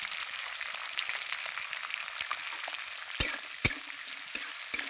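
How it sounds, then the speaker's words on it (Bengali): Capsicum and onion fry in hot oil in a pan, a steady close sizzle with a couple of sharp spatter pops, no talking. "এদিকে ক্যাপসিকাম পেঁয়াজ ভাজা হতে থাক,"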